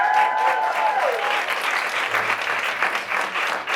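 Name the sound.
audience applause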